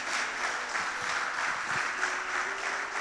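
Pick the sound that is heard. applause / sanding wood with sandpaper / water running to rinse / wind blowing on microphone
applause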